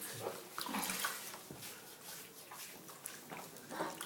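A dog being bathed in a bathtub with shampoo, with soft water splashes and sloshing close by and quiet handling sounds in short irregular bursts.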